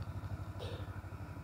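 A tractor engine chugs steadily during hay harvesting, a low, even pulsing throb heard up close with faint clatter over it.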